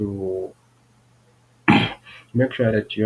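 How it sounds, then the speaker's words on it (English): A single sharp cough bursts out after a moment of quiet, with someone speaking before and after it. "Sorry, I have some cough."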